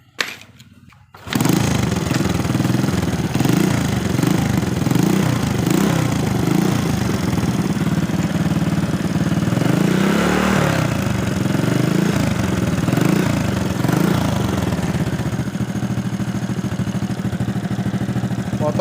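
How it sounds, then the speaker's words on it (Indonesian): A Honda Supra motorcycle engine catches after a short silence and settles into a steady, rattly idle that runs continuously, loud and close, with slight fluctuations in its chugging pulse. "kita langsungkan sini saja ya untuk menghidupkan motornya"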